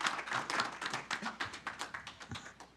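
A small group at a city council meeting claps in a thin, uneven patter of distinct hand strikes that slowly thins out, close and moderately quiet.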